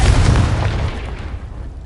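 A Confringo explosive spell blast in Hogwarts Legacy: one loud, deep boom that hits at once and rumbles away over under two seconds.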